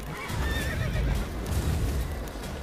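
A horse in The Witcher 3 video game whinnies loudly and close, a long shaky neigh over rumbling hoof and ambient game noise, with no talking.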